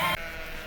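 A single short sheep bleat from a flock grazing grass and brush in an alleyway, a brief nasal cry at the start that cuts off into quiet outdoor background.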